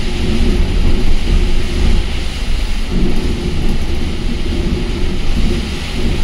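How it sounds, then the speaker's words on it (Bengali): Heavy rain and thunder from inside a sleeper bus travelling from Asansol to Siliguri: a loud, steady low rumble and roar of downpour with a continuous wash of rain noise throughout, no voices. "এখন আবার সাংঘাতিক জোর বৃষ্টি নেমে গেল"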